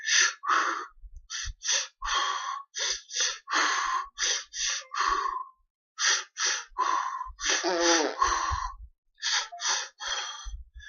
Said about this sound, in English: Lamaze breathing, that's when you go like this